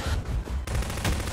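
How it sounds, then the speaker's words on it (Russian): Gunfire in Garry's Mod: a short, dense, rapid volley of shots, loud and close, with a brief break midway before the firing resumes. "вы по дверям стреляете там"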